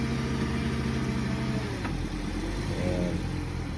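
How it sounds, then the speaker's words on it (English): A 2013 Volkswagen Jetta idling just after a jump start, its engine running at a steady, fairly quiet low hum close by with a slight rise in revs near the end, no talk. "The engine sounds pretty quiet on this one, folks."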